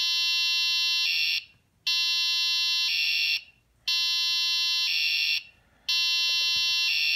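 A loud, harsh electronic alarm tone repeats in long bursts of about a second and a half, separated by short silent gaps, with no one speaking.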